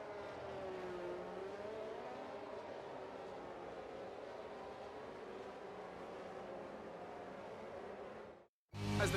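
Formula 1 cars on the formation lap of the 2022 Singapore Grand Prix, a steady sustained engine drone from a distance for about eight seconds, then a brief drop before a loud burst at the end.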